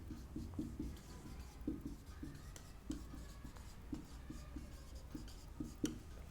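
Pen or marker writing out an equilibrium constant formula for a chemistry problem, with steady scratchy strokes and short rhythmic taps in quick irregular bursts, close and fairly quiet, no talking.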